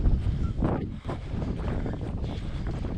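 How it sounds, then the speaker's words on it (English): Strong, cold wind at a Spartan race at North Lake Tahoe buffets the microphone in loud, continuous rumbling gusts with low roaring surges. "as you can see, not just cold, but extremely windy"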